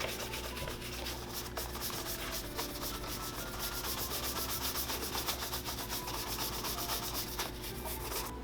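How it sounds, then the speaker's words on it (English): Wax-polished leather shoes are buffed with a brush or cloth, producing continuous close rhythmic rubbing strokes at a fairly quiet level with no talking. "Now it's time to buff those shoes off again."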